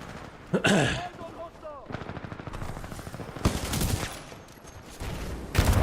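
Rapid automatic weapon fire in the video game Titanfall 2, repeated loud bursts with game effects, while someone talks over the shooting.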